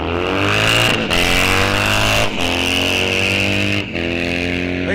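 Harley-Davidson motorcycles, including a 2007 Harley, drag racing at a raceway without air shifters: a loud, close engine roar rising steadily in pitch, broken by a few brief gear-change dips.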